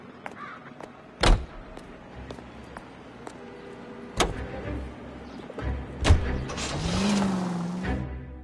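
In LA Noire, a car door slams twice amid clunks, then the engine starts and revs up as the car pulls away, rising to a steady drone at the end.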